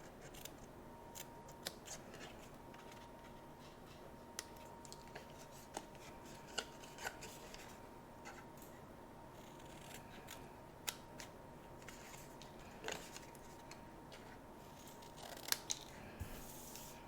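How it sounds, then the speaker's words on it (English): Scissors cut the end off a cardstock box flap, with a series of quiet, close snips and paper rustles spread irregularly across a soft, faint background. "And I'm only cutting the end off of one of these flaps."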